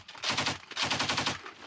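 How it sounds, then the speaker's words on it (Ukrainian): Bursts of machine gun fire crackle at a trench position along a front line, two rapid strings of shots separated by a brief pause, loud and close. "З пулемета."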